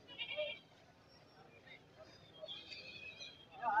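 Goats bleating at a weekly goat market, several calls rising and fading over steady crowd chatter and background murmur.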